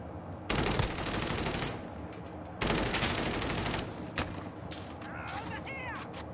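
Gunfire in the video game Warzone on Rebirth Island comes as two long, loud bursts of rapid automatic fire, followed by scattered shots, with players talking over the action.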